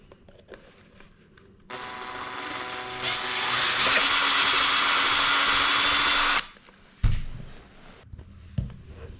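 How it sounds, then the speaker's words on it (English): A power drill drills out a bolt on a 2025 Honda CBR600RR motorcycle for several seconds, starting steady and then rising in pitch under load, followed by a few clunks once it stops. "And then we need to drill out this also."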